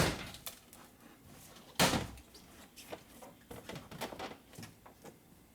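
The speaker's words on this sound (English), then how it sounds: "now I'm gonna grab one side of the door panel and pry it out" Mercedes/Dodge Sprinter driver door panel being pried loose from its plastic rivets: a sharp loud pop near the start of the second second, then scattered quieter clicks and plastic creaks, close and without talk.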